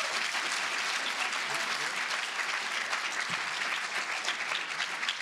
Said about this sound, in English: could we just get a round of applause for the panel?